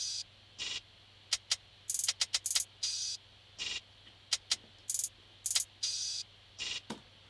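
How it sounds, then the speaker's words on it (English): Isolated hi-hat sounds play in sequence: open hat washes, a quick hat roll, softer low hats and sharper accent hats, bright short hits in an irregular pattern with gaps, alone. "We have an open hat, a hat roll,"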